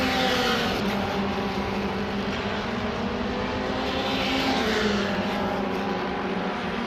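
MRF Challenge single-seater race cars at the Chennai circuit lapping through turn 12 toward the timing line, a continuous loud engine drone with steady roar and shifting pitch, heard from trackside without any nearby talk.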